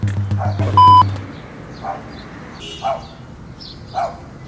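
A dog barks several times in the distance, short isolated woofs spaced about a second apart behind a steady low hum, with a brief beep and some talk near the start.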